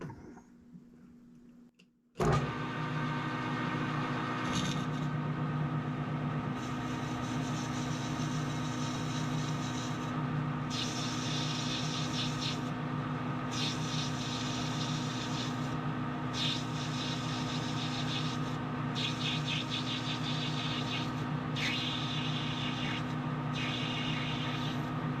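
A lathe running at 460 RPM during a heavy-duty knurling tool build starts up abruptly and then holds a steady mechanical hum. Bursts of higher cutting noise come and go on top of the drone.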